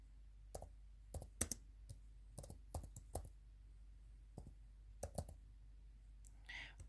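Typing on a computer keyboard at home: scattered, irregular clicks and short runs of keystrokes, close but soft, in a quiet room.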